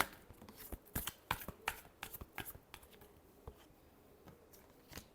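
Tarot cards are shuffled by hand nearby, a quiet run of crisp riffling flicks and soft slaps, bunched at the start and thinning out toward the end.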